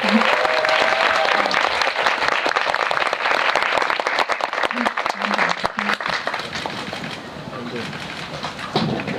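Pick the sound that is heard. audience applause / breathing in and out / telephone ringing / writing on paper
audience applause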